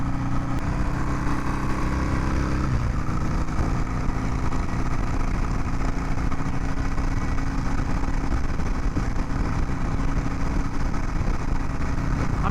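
A motorcycle engine while riding, a continuous loud drone under heavy wind rush, with a slight shift in engine pitch early on and no talking.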